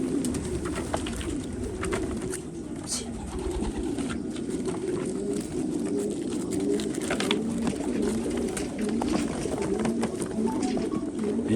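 Racing pigeons at a pigeon auction coo in a steady low, murmuring chorus with soft flutters and faint clatter, loud and continuous throughout, no clear talk.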